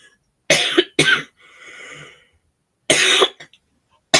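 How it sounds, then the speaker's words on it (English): A person coughs in several harsh, close bursts, the first two quickly back to back, then a short throaty rasp and one more loud cough after a pause. "I've got a really bad cough."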